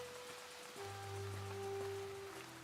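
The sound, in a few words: rain falling onto courtyard, from a video game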